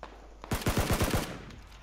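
A rapid burst of automatic gunfire from PlayerUnknown's Battlegrounds, about six sharp shots in quick succession, fairly close, then a faint trailing shot over quiet background.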